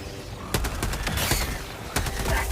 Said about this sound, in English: I have to shoot some of these spores.